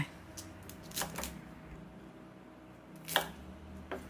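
A few sharp knife chops cutting water spinach into pieces on a cutting board, spaced irregularly, fairly close with quiet background noise between them.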